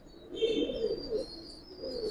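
Close, low cooing from silver pigeons swells in two soft bursts, with a faint higher tone above and no talk.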